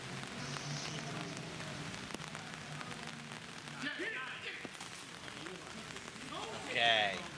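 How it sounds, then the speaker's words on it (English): Rain falls steadily on an outdoor disc golf course, a soft continuous patter throughout, with voices talking in the background and a brief sharper sound near the end. "It is definitely raining"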